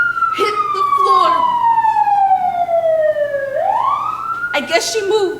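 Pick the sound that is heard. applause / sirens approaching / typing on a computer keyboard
sirens approaching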